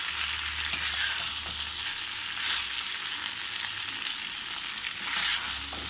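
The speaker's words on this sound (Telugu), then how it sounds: "ఆనియన్స్ వేసాను కదా, కొంచెం ఫ్రై కావాలి, బాగా డీప్ ఫ్రై కావాలి" Onions and raw banana fry in a pan, giving a loud, close, continuous sizzle with a bright hiss that swells slightly now and then as the food is stirred. No one speaks.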